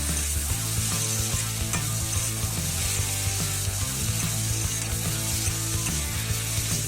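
Crab curry masala sautéing in a pan, a traditional Sundarbans small chiti crab dish, sizzling steadily close up with stirring and scraping throughout and no talk.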